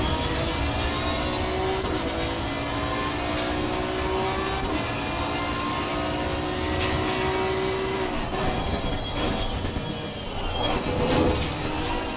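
An Aston Martin Vantage V12 GT3 race car in the Assetto Corsa Competizione racing game drones steadily, its engine tone rising and falling across shifts, loud and continuous with no talk.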